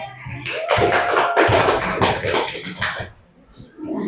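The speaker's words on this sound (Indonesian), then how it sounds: "Tepuk tangan untuk kelompok yang ketiga" A classroom group claps for the third student group in a mathematics lesson, a burst of hand claps that swells, holds for a couple of seconds, then stops abruptly, with a faint voice near the start.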